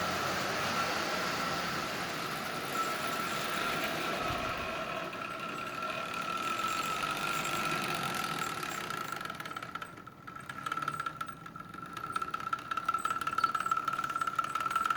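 A Marx 999 model train locomotive's electric motor running on DC power, giving a steady, continuous mechanical hum and whir at moderate level with a faint high tone, unbroken for the whole stretch with no talking.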